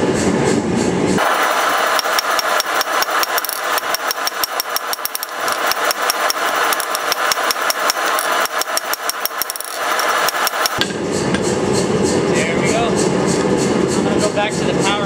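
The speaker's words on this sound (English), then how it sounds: "Back to the power hammer and draw this out because it's still way thick." A power hammer drawing out a thick Damascus steel billet into a blade, fast rhythmic pounding in a long sustained run, loud and close, stopping toward the end as the engine keeps humming.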